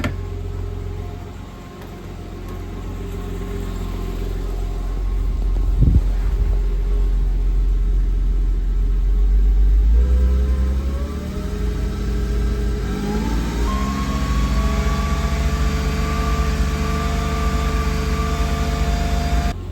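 A car engine runs steadily, held at 2,500 rpm after a brief blip during a battery tester check, with a constant droning hum and rumble close by.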